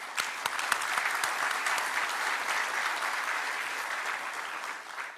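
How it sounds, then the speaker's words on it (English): Conference audience at a health and wellness innovation forum applauding Tika, a steady, moderately distant wash of many hands clapping that holds for several seconds before easing off. "Big round of applause to you, by the way."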